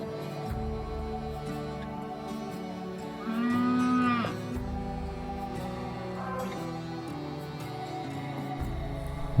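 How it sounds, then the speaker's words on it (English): Cattle low in a public land pasture among trees, one long, drawn-out moo rising over steady ambient background noise, with other quieter moos further off. "we start hearing the mooing"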